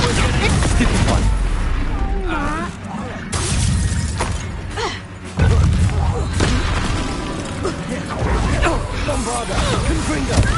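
Bombarda and Confringo explosion spells cast in Hogwarts Legacy: repeated loud magical blasts and crashing bursts, densely layered over in-game ambience, with voices talking throughout.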